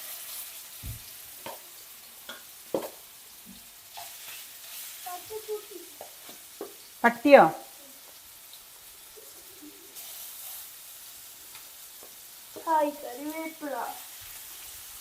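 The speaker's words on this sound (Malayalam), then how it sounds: "മീൻ വറുക്കണ പോലെ വറുക്കും" Marinated fish frying in hot oil in a home kitchen, a soft steady sizzle under scattered talk, with a cat's meow and a voice cutting in near the middle and end.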